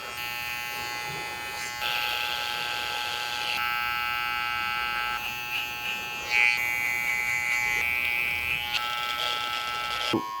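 Electric hair clippers fitted with a one-and-a-half guard, lever open, buzz steadily while trimming a short haircut, the whine shifting in pitch as they work up through the hair, close and without talk.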